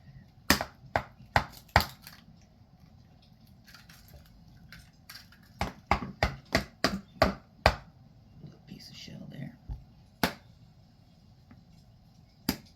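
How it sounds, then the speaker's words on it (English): Sharp clicks and knocks from eggs being cracked into a dish while making snacks, several distinct taps spread across the clip, with quiet talking in the background. "So can you crack an egg into this dish and we'll pick up any shells that get in there?"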